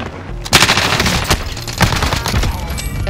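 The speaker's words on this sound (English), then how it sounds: "Taking shots. I'm under fire." Rapid automatic gunfire rattles in Call of Duty: Modern Warfare in loud, close bursts with sharp cracks over a dense, continuous battle din.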